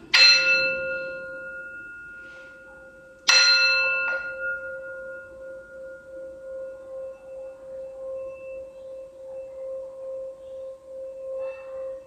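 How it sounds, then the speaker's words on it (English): A singing bowl used to clear energies is struck twice, each strike a bright metallic ring that decays into a long steady hum that lingers and wavers, with faint sounds of children in the background. "to clear out any other energies using the sound bowl"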